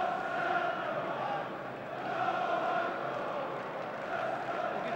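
Steady roar of a large football stadium crowd of travelling Newcastle United supporters at a match against Glasgow Rangers, a continuous distant hum of voices under a commentator's talk.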